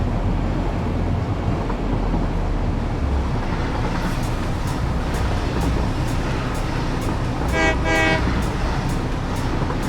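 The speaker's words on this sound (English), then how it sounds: "then the train will just run back and forth all on its own" A train runs its automated route in the factory-building game Satisfactory, with a steady rolling rumble and regular rail clacks. A short horn toot sounds near the end.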